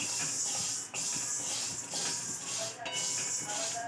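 Sago pearls with cumin roast in a pan on low heat, giving a steady soft hiss and sizzle with faint irregular crackles throughout.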